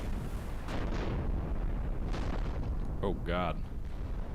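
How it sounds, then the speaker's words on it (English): Battleship shells strike and naval artillery fires in a World War II sea-battle video game, deep rumbling booms and bursts rolling under a tense voice speaking close by. "We're just taking a shit ton of hits."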